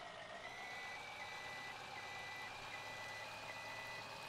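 Steady electronic reversing beeps from a Ford farm truck in Farming Simulator 17 repeat over a continuous low engine rumble. No one speaks.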